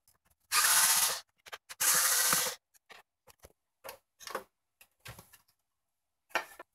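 Screws being backed out of the stand on a Planar PL2210MW monitor, two long bursts of buzzing power-driver whir followed by a scatter of quiet clicks and small handling taps, close and alone.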